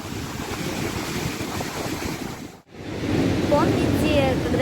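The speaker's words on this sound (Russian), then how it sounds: "это разве волны?" Sea surf washing onto a winter shore at Sochi, a steady broadband rush with wind buffeting the microphone, briefly cutting out midway before the wash returns.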